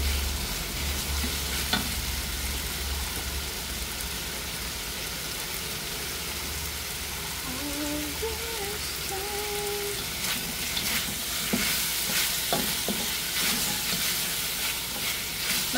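Chicken browning in a pan for chicken tinola, a steady close sizzle and crackle with occasional stirring scrapes and faint background tones throughout.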